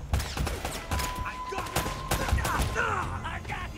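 Gunfire in the video game Uncharted: Drake's Fortune, a run of sharp, mid-distance shots at an uneven rhythm, with other game sounds mixed in.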